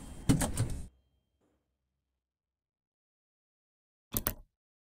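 Metro train doors in Moscow Metro Simulator 2D slide shut with a brief mechanical rattle and thump, followed by silence and then a second short clattering burst a few seconds later.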